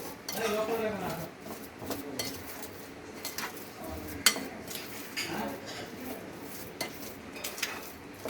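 A spoon stirs palm fritter batter in a bowl, making soft irregular scraping and clinking against the dish with one sharper knock, fairly quiet and close.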